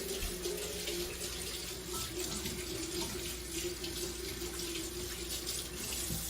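Kitchen tap water running steadily into a sink while flour is rinsed off fingers, a constant close hiss and splash with no talk.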